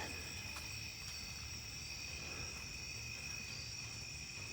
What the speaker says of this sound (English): Bugs are loud tonight.